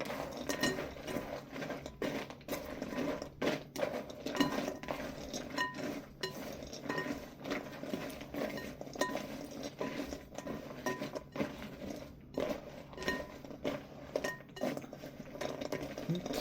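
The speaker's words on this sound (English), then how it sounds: "just stir it around to coat all the nuts" Pecans and walnuts are stirred around a bowl to coat them for candied nuts, giving a busy run of close clinks, taps and scraping clatter from the spoon against the bowl, steady throughout with no voice.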